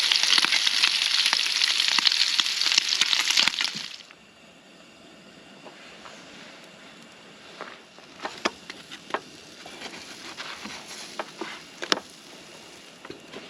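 Bacon and pancakes frying for breakfast at a camp in the woods, with a loud steady sizzle for about four seconds, then quieter crackling and scattered pops and clicks.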